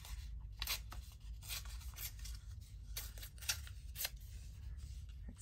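Paper is torn and handled during a craft session making random ephemera, with faint, close rustling and tearing strokes repeating irregularly against quiet background noise.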